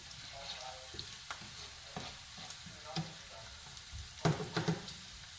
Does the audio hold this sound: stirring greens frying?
yes